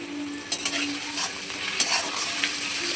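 Chopped tomatoes with salt frying in a pan, a steady sizzle under a few light scrapes and taps from a spoon as they are mixed, close and continuous.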